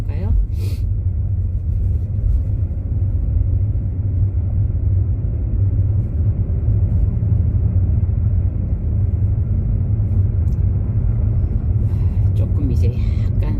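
A car rolls slowly at about 30 km/h along a snowy, partly icy road in Jeju, giving a steady low engine and road rumble throughout with no talk over it.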